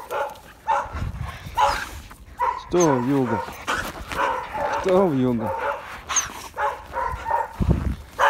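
Two dogs from a West Siberian Laika-type breeding pair bark with loud, repeated outbursts, while someone speaks close by throughout.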